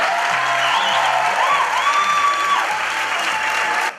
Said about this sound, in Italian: Un applauso a voi e un applauso al grande